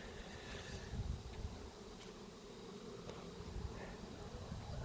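Honey bees buzzing in a dense, steady drone being moved onto a deck, a continuous hum with no talk.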